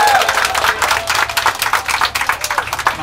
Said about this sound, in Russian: Какими аплодисментами мы спасибо выразим капитану за его команду?